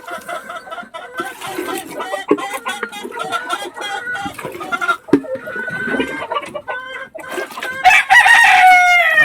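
Local farm chickens cluck and squawk busily as they start eating, with a rooster's loud crow rising near the end, all close and lively over the rustle of the coop.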